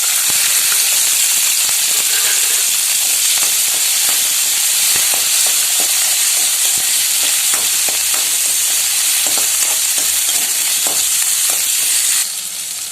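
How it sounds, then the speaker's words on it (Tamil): Ingredients for egg kuzhambu sautéing in hot oil in a kadai, a loud continuous sizzle and hiss with frequent spatula scrapes and taps, close up and with no voices. "இப்போ எல்லாத்தையும் சேர்த்து வதக்கிக்கலாம்."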